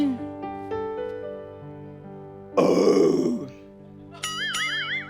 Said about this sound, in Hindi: ये मैंने जो लंच खाया उसकी डकार थी।